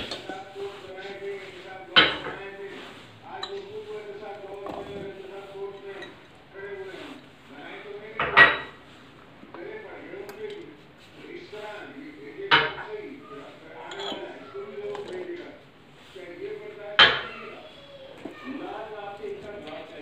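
Boiled vegetables, including finely cut carrot, tipped into a bowl for a mayo veg salad, giving a few sharp clinks and knocks of dishes and cutlery spaced through the stretch under steady talking.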